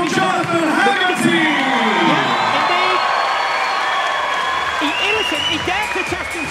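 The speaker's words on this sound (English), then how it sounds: "ladies and gentlemen, a massive round of applause from Jonathan Haggerty!" Fight crowd at a Jonathan Haggerty vs Superlek Kiatmoo9 Yokkao 31 muay thai bout applauding and cheering loudly and steadily, with whoops and shouted voices throughout.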